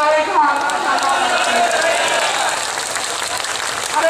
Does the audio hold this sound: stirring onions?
no